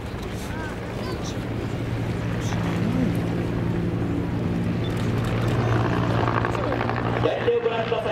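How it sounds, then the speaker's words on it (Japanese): Anti-tank attack helicopter flying during a live-fire military exercise, a steady loud rotor and engine drone with strong low hum throughout, mixed with faint background commentary. "空中機動により展開する水陸機動連隊の隊員を援護するため対戦車ヘリコプターが警戒・援護します。"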